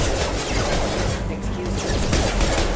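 Sustained gunfire in the video game Mass Effect 2 rattles loud and dense throughout, a continuous barrage of rapid shots with combat noise and no clear gaps.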